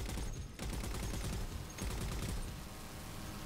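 Rapid gunfire in the video game Halo 4, a dense, continuous burst of shots filling the whole stretch, fairly quiet overall with a brief dip early on.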